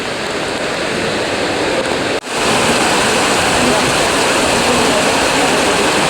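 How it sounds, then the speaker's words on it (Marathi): Torrential monsoon rain pours down in Mumbai near a flooded railway station, a dense, loud, steady roar that cuts out for a split second and then resumes just as heavily. "मुसळधार पाऊस, मुसळधार"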